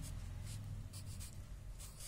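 A pen writing on paper gives soft repeated scratchy strokes in a quick irregular rhythm, faint and close over a low steady hum of room noise.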